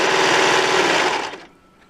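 A Baby Lock Imagine serger stitches satin fabric, a loud close steady high-speed whirring hum that runs continuously and then winds down and stops near the end.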